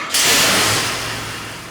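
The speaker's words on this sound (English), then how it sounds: "let's get this thing fired up and make some pulls" A-Mod race engine on a dyno fires up with a sudden loud burst and holds a steady, roaring rev that slowly eases off, close and alone without talk.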